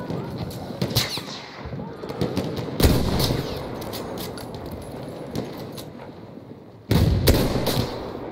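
Gunfire in Battlefield 1 multiplayer Rush mode: sharp bursts of shots and explosions crack out in clusters, loud and close, with quieter stretches of battlefield noise between them.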